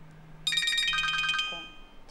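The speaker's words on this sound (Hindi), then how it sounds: "फोन बज रहा।" A phone rings at home with a bright electronic ringtone, a rapid warbling trill of repeated tones lasting about a second, heard over a quiet room with faint low hum.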